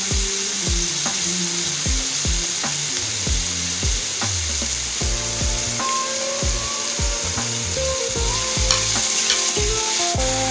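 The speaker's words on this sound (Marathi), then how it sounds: "आणि टॅमॅटो आपल्याला शिजवून घ्यायचा आहे चांगला टॅमॅटो पटकन शिजण्यासाठी आपण त्यामध्ये मीठ ॲड करणार आहोत" Tomato cooks with salt in a pan, sizzling and frying steadily while a utensil stirs and scrapes in regular strokes, close and clear with no voices.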